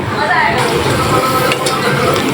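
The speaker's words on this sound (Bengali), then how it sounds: "উচ্ছে ভাজা উচ্ছে ভাজা হচ্ছে এখনও" Bitter gourd frying in a pan in a home kitchen, a steady close sizzle with stirring scrapes and light utensil clinks, with people talking over it.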